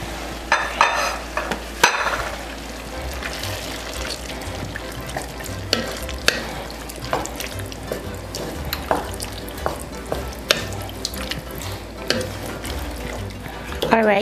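Lasagna soup being stirred in a pot, with scraping and sloshing, soft sizzling and a few sharper clinks, continuous and close throughout.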